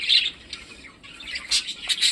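Budgerigars squawk and chatter in quick, shrill bursts close by, with no talking.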